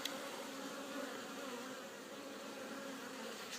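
Honeybees buzz steadily and faintly around their hives in autumn, a continuous soft hum with no talk.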